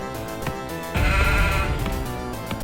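Sheep bleating in the Warcraft II: Tides of Darkness real-time strategy game, a single loud, wavering bleat over steady game music.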